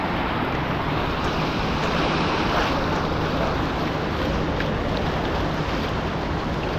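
Water of the Ponnaiyar river rushes steadily near Kothakuruki waterfalls, a dense continuous roar with wind buffeting the microphone and no voices.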